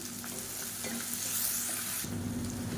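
Onions and about ten garlic cloves softening in a pan with salt for a kuzhambu, a soft constant sizzle with light stirring scrapes, close but fairly quiet and brief.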